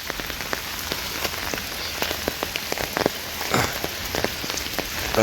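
Rain falls steadily on a riverside in a Bangladeshi village, a dense close patter with scattered sharper drop impacts on nearby surfaces, no voices present.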